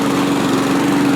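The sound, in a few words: lawn mower engine running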